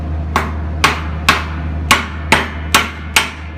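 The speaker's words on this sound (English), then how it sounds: "I tap that slag and bust that stuff off" A hammer taps slag off fresh arc welds in seven sharp metallic strikes, evenly spaced and close, ringing briefly over a low hum.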